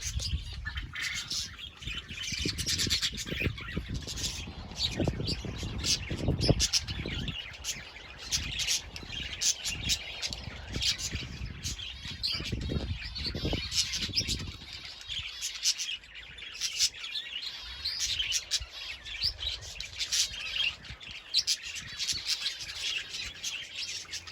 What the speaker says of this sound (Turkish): bu kuşlar genelde akşam üzerlere geliyorlar ve yuvalarına giriyorlar.